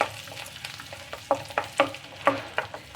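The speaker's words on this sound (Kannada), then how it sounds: "ಇದಕ್ಕೆ ಒಂದು ಸ್ವಲ್ಪ ಘಮ ಬರೋವರೆಗೂ ಹುರ್ಕೊಳ್ಳಿ ಅದನ್ನು." Whole spices, namely bay leaf, cinnamon, clove and cardamom, frying in fat in a pan for kadai paneer: soft sizzling with a quick series of stirring scrapes and pops, close and moderately loud, no voices.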